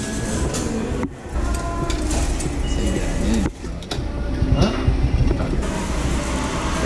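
A train arriving at a station in Japan rumbles and clatters loudly and continuously, with rail noise filling the scene and a short dip partway through.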